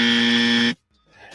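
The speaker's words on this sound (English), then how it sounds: "Can we give the grandson a dummy buzzer real quick?" A loud, harsh electronic buzzer blares steadily for under a second as a dummy sound effect, then cuts off abruptly, leaving brief faint rustling noise.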